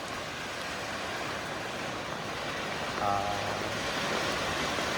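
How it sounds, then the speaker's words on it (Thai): Steady rainfall on an open rural Thai farm plot with trees, a dense, even hiss of drops holding at a constant level for the whole stretch, with a brief faint tonal sound partway through and no voices. "เย่ฝนตกแล้วจ้า"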